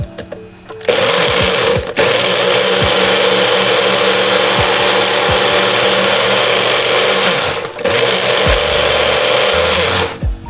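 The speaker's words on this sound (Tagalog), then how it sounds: "Nahihirapan yung ating blender." A loud, steady motor whir of a blender straining on a smoothie, running continuously at close range, with a brief stop and restart partway through and no talking.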